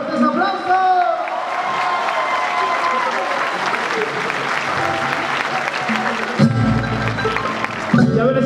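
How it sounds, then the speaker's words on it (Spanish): Loud audience applause with cheering and shouts fills a theater during a mariachi concert, continuous dense clapping with voices rising over it, and a brief burst of low musical sound near the end. "¡Venga, fuertes aplausos!"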